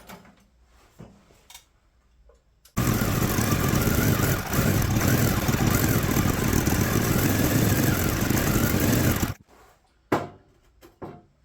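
A 1970s snowblower engine roars loudly and steadily for several seconds after a few quiet clicks, then cuts out abruptly, leaving faint mechanical rattles and knocks close by.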